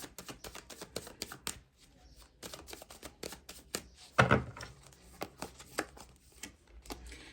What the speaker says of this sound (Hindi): वैसे ही अब इस डेक से भी मैं निकालूंगी कार्ड्स।